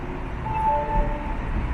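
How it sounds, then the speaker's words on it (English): A Metro Rail train pulls into a station platform: a steady low rumble of the rolling cars with a faint, high metallic squeal from the wheels or brakes, loud and close. "And here's my train."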